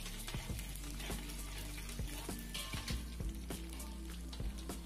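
Chana dal and urad dal frying in hot oil for a chutney, a close, continuous sizzle with crackling pops and occasional clinks of a stirring spoon against the pan, no talking.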